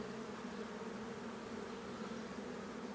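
Continuous hum of many honeybees around a hive, worked bare-handed by a beekeeper, a faint, even drone without breaks.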